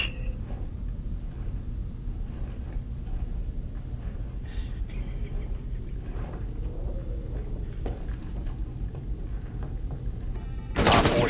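Rapid automatic gunfire from a Rainbow Six Siege hostage round, a steady loud stream of shots running throughout with a sharper burst at the very end.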